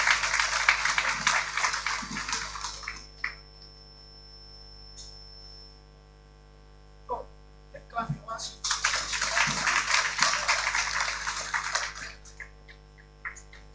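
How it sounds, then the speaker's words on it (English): Applause from a conference audience at the Ghana Physician Assistants Association's annual general conference, a steady hiss of many hands clapping at moderate distance. It runs for a few seconds, pauses, then swells again for several more seconds. Faint voices can be heard in the lull. "Shall we welcome her with a hand of applause?"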